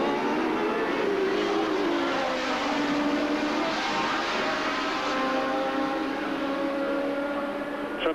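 A 1983 Formula One car screams through the fast bends and chicane at the Hockenheimring in the German Grand Prix, a sustained high engine wail with shifting pitch and gear changes, heard steadily from a distance.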